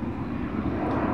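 Atlas Air Boeing 777 jet landing at Chicago O'Hare, a brief steady low rumble of engine noise, moderately loud and unbroken.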